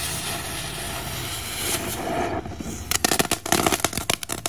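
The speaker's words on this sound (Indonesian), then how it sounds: "ini kita main mercon keluarga Halloween" Halloween family firecracker fireworks crackling in a hissing burst that turns into rapid, irregular sharp pops and snaps, close and fairly loud.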